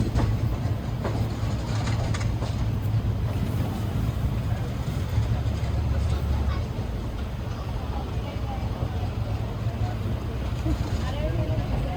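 Kakatiya Express rumbling steadily along the rails near Challapalli, a continuous low rolling drone with faint clatter, heard from inside the moving train, with voices in the background.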